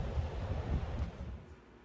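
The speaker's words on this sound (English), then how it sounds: "Listen to how windy it is that day." Steady wind buffeting the microphone on a very windy day in South Florida, a low rumbling roar with gusty swells that ease off slightly toward the end.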